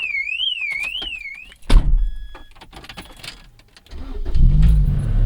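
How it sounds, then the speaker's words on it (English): A 2006 Lotus Elise's warbling electronic car alarm whoops for a moment, then cuts out, followed by a loud thump, clatter and rattling, and a low rumble near the end. "somehow I triggered the alarm"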